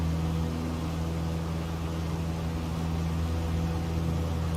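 Steady, droning engine of a Piper PA-28-161 Warrior II in a flight simulator game during the takeoff roll, a constant, even hum that holds at the same level throughout with no talking.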